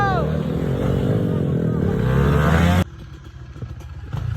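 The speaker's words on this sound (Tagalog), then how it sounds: "Mardigak Depa on the move with the KLX 220cc" Kawasaki KLX 220cc dirt bike on a trail, engine droning and revving loudly and close for about three seconds, then cutting to a quieter stretch with rattling and clatter, voices calling over it.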